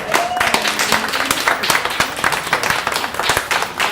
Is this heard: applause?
yes